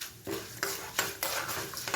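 Black sesame seeds fry in oil in a pan for an eggplant kuzhambu, with sharp bursts of crackling and scraping stirring strokes recurring roughly every third of a second, close and moderately quiet.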